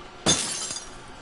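Glass shatters in the horror game Until Dawn, a single loud, sudden crash followed by a brief spray of falling shards and a fainter second clink, with no talk.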